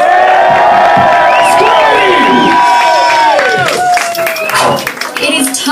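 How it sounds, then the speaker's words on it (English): A theatre audience at a bar's drag show claps, cheers and whoops loudly and continuously, a dense crowd roar with shouts rising above steady applause. "ladies and gentlemen, stand, clap, cheer and shout"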